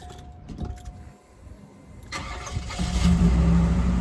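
A Cadillac Allante cranks and fires up at about two seconds, its engine settling into a loud, steady idle that fills the rest of the moment.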